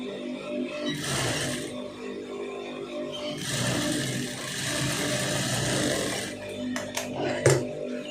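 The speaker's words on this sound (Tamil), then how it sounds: "இது அப்படியே வந்து கரெக்டாக மடித்து ஒரு தையல் வந்து போட்டுருங்க" Sewing machine running a seam on a pom pom sleeve, a steady mechanical whirring in two long stretches separated by a pause, followed by a few sharp clicks near the end, close up.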